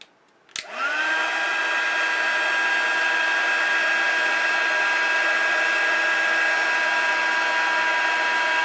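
An embossing heat tool switches on with a click and settles into a loud, steady fan whir with a faint whine, running continuously up close while heating embossing powder on a handmade Christmas card.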